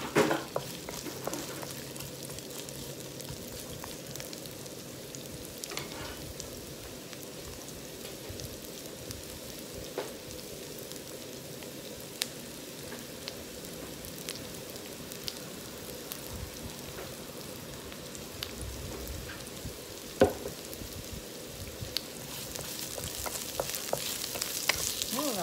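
Red onion and ginger sizzle in a hot pan, a quiet steady frying crackle with occasional stirring clinks, going on at length without talk.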